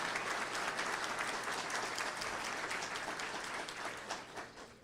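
Audience applause during a simulated labour court hearing, a dense, steady round of clapping that continues evenly and fades slightly toward the end.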